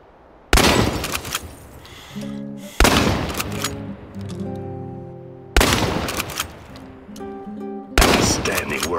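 Shotgun blasts in the video game Chernobylite: four loud, sharp shots spaced a couple of seconds apart, each with a booming, decaying tail, and quieter tonal game sounds and voice filling the gaps.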